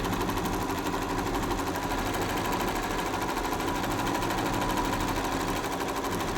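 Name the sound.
computer embroidery sewing machine stitching a border design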